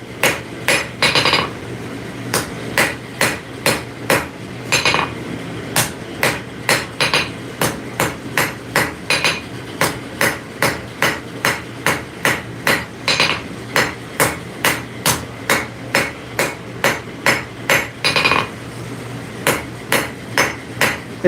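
A hammer forges metal on an anvil in a steady, evenly spaced series of sharp ringing strikes, close and loud, with a few short pauses between runs of blows.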